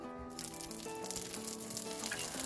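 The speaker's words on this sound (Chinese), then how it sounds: "然后就可以上锅煎它了" Slices of Beijing guanchang fry in a pan with a steady, fairly quiet crackling sizzle, unbroken for the whole stretch and with no voices.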